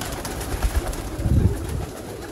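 Parwazi pigeons coo in a soft, low, throaty burst of two or three calls, close by and alone with no voices.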